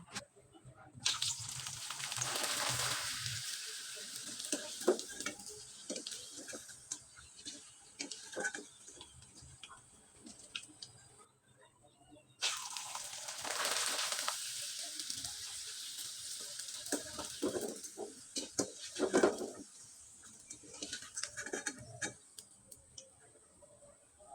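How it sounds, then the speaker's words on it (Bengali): Homemade chips sizzle in hot oil, a crackling hiss that comes in two long bursts with scattered pops and ticks between them, fairly quiet with no talking. "এবার আপনাদের তেলে ভেজে দেখিয়ে দিচ্ছি আর এগুলো তেলে দেওয়ার সাথেই কিন্তু ফুলে একবারে ডবল হয়ে যায়"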